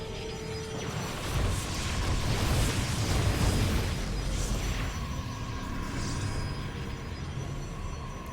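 A cannon is blown apart in a StarCraft II match, heard as a sustained, rumbling explosion that swells over the first few seconds and then trails off into a steady, crackling roar.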